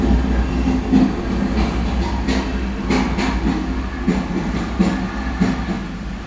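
A diesel freight train of about 20 cars, including some tankers, rumbles past steadily, wheels clicking rhythmically on the rails, with no talking.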